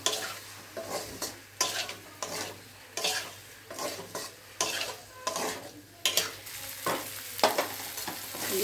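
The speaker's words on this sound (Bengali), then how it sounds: "এবার আমি কষিয়ে নেব" Masala with soybean chunks and potato fries in a pan, sizzling continuously under repeated rhythmic spatula scrapes and stirs, close up with no voices.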